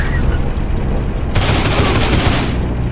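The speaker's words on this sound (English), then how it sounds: "I'm getting shot at" Burst of rapid gunfire in the Heroes & Generals shooter game, a dense loud volley lasting about a second amid steady background battle noise.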